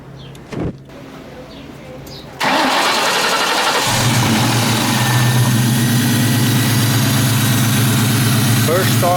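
A 2004 Ford Mustang GT V8 fitted with an Airaid cold air intake cranks briefly, catches and settles into a loud, steady idle, heard close up with a short click before the start.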